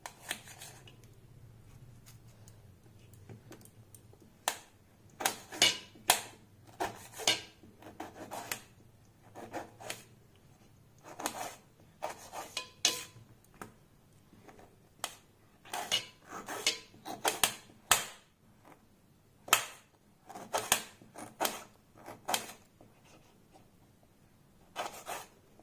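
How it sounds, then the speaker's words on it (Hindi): Thin slices cut through ripe, washed desi tomatoes, a steady series of sharp knife strokes tapping on a board, close and crisp, with short pauses between bursts and no talking. "इसी तरीके से पतला पतला टमाटर हम काट लेंगे"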